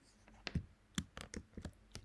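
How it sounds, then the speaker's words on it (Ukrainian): Keys on a computer keyboard are pressed in a quick, irregular run of soft close-up taps and clicks, fairly faint, with no voices. "нам простіше всього нажати на клавіатурі пошук по слову"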